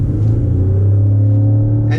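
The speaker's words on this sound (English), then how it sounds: "And we hear the engine." Steady engine drone of a 2018 Lexus RX 450h hybrid SUV driving on a normal road, a continuous low rumble holding level for the whole stretch with no talk over it.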